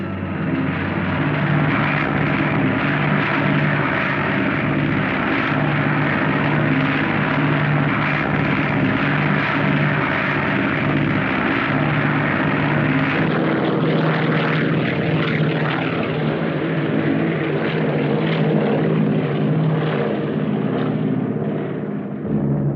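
Loaded propeller supply planes drone steadily overhead in wartime over jungle, a loud continuous engine roar that holds throughout with slight shifts in pitch as the aircraft pass.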